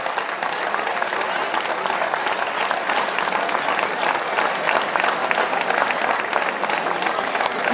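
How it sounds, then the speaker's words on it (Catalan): A crowd gives sustained, dense applause at a medieval market event in Sant Mateu, honouring the town hall workers. The clapping is loud and steady throughout, with faint voices underneath. "jo demanaria un fort aplaudiment per a tots ells que se'l mereixen"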